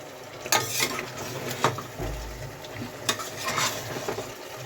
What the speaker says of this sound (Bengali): মাটন কষাতে বসে দিয়েছি